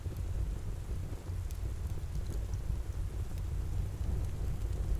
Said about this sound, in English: The glass glistens softly as the rain continues its steady rhythm.